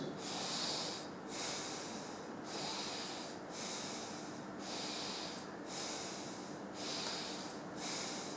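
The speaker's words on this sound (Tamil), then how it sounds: "மெதுவாக மூச்சை உள்ளெழுத்து மெதுவாக மூச்சு வெளியே விடுங்க" Slow, deep yoga breathing done in a quiet room, heard as about seven even cycles of airy inhale and exhale in a steady rhythm, soft and close with no talking.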